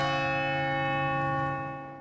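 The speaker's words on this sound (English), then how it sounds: "It's the largest bell, the Sacred Heart Bell, in the city of Grand Rapids." The Sacred Heart Bell, the largest church bell in Grand Rapids, rings out one sustained, resonant tone with rich overtones that holds steady and then begins to fade toward the end.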